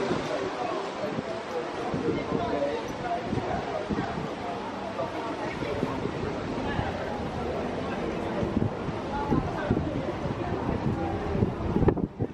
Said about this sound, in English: Boy, very windy.